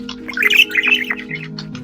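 A budgie in the Feather Family video game gives a quick run of bright, high chirps and tweets, fairly close and clear over a steady low background hum, with no talking.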